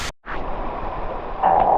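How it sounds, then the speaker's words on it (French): Steady broadband rush of water at the foot of a waterfall in Madagascar, heard up close while swimming, a continuous full roar that swells slightly louder near the end. "On est dans l'eau. Au pied de la cascade."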